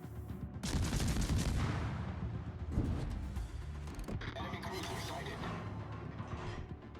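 Naval gun salvos from warships in World of Warships, a heavy burst of booming fire that swells into a sustained rolling roar with a second blast partway through, distant and fairly quiet overall.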